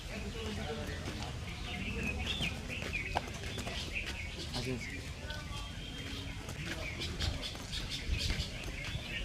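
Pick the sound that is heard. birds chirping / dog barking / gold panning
birds chirping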